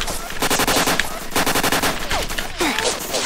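Automatic gunfire in Roblox Apocalypse Rising, loud rapid bursts of shots in two long strings with a short gap, close and harsh, with a voice faintly under it.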